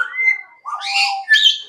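In an open safari park with parrots and pigeons about, birds give clear whistling calls and chirps in quick succession, close and fairly loud, with no voices.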